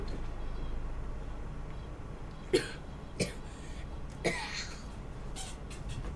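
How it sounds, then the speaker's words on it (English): Three short, sharp coughs spaced about a second apart, over a steady low background hum. "it's a curse to make me cough"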